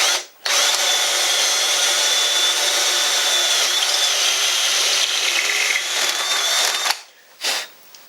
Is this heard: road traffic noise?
no